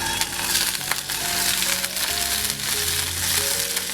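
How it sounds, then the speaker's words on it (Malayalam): Coriander seeds, cumin and black pepper sizzle steadily in a pan of hot coconut oil, a dense, close crackling frying hiss running without pause, with a few faint clinks from the pan. "അതിലേക്ക് ഒരു ടേബിൾ സ്പൂൺ വെളിച്ചെണ്ണ ഒഴിച്ചു. അതിലേക്ക് എടുത്തു വച്ചിരിക്കുന്ന മല്ലി,"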